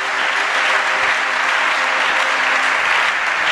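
Steady, dense applause from a church congregation, filling the space evenly and continuously with no breaks and no talk over it.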